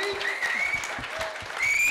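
At a film press meet, the audience claps for a cinematographer called to the stage. The clapping is fairly soft and scattered and runs briefly, with a few louder individual claps.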